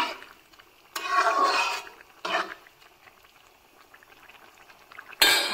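Bottle gourd curry simmering in a pan, a soft watery bubbling with louder surges of boiling and stirring, then a sharp clatter at the end.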